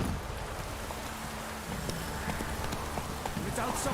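A horse's hooves clip-clop at a steady walk in The Witcher 3: Wild Hunt, amid wind and rain hiss, with a voice talking over them.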